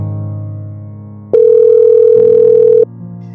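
A telephone tone after a call is hung up: a loud, steady electronic beep lasting about a second and a half, set against a low background hum, with no talking.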